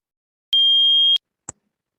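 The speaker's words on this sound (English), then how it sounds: "please wait for 5 seconds after the beep" A single steady electronic beep from a job portal's spoken audio instructions, lasting about half a second, followed by a brief faint click, with no talk.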